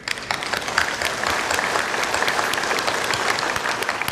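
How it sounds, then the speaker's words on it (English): An audience applauds to welcome a guest lecturer, steady dense clapping from a sizable crowd that fills the room evenly for the whole stretch without a break. "Please give a big applause to welcome Dr."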